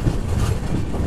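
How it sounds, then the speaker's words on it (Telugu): Tatanagar–Ernakulam Express at Bobbili Junction, platform 3, with a steady low rumble of rolling stock and faint rhythmic wheel clatter, close and continuous throughout. "బొబ్బిలి జంక్షన్కి మన ట్రైన్ వచ్చేసి ప్లాట్ఫామ్ 3కి అయితే వచ్చింది"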